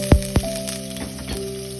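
Onion fries in a pan for a chayote dish, giving a soft, steady sizzle close by with a couple of sharp thumps at the start and a faint background hum.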